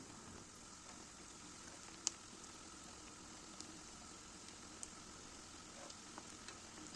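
Pişi dough fries in oil that sizzles and crackles in a steady, quiet frying hiss, with occasional small pops, close by and with no talking.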